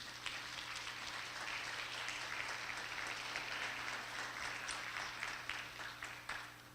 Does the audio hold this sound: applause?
yes